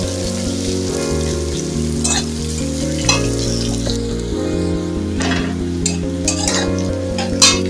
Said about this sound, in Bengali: পেঁয়াজ কুচিটা এইভাবে আমি ভেজে নেবো।